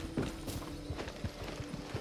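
Horse hooves clip-clop in the video game Far Cry 6, a steady, faint rhythm of hoof strikes repeating throughout, with no talk.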